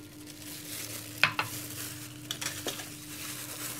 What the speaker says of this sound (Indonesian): aduk sampai rata